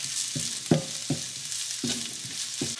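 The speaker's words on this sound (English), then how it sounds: "Just going to saute this for just a minute." Sliced garlic cloves, with onions and ginger, sautéing in a pan for an egg curry: a low, steady sizzle broken by several soft scraping stirs, close and moderately loud, with no talking.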